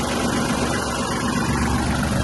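A Kubota GL-320 mini tractor's engine idles steadily nearby, a constant loud rumble with a low throbbing hum and no pauses.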